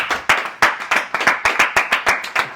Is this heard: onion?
no